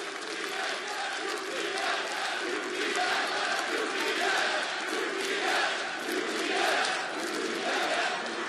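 A large arena crowd cheers and roars steadily at a CS:GO esports match at the ELEAGUE Boston Major 2018, NAVI versus Quantum Bellator Fire, with dense continuous noise that swells and dips in waves and no voices standing out.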